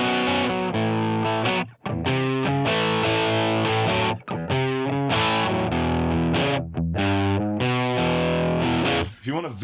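Electric guitar played through an Airline amp model in ToneX, loud and continuously distorted, with sustained chords and melodic notes under a chorus-like effect and short gaps between phrases.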